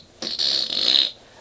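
A person's voice imitates a fart noise, giving one brief, hissy, sputtering burst of about a second that sounds close and stands alone with no other talk.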